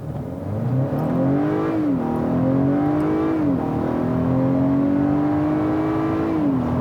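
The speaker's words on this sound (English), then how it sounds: "But let's floor it again from a stop." Acura car engine floored from a stop, revving hard and climbing in pitch through several gears with distinct shift drops between pulls, steady and close with no talking.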